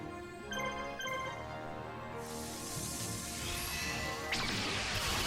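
A heavy smash and crash as Gate Guardian is struck in the Yu-Gi-Oh! The Falsebound Kingdom video game, with a rising burst of noise and a second impact over steady game music, with no talking.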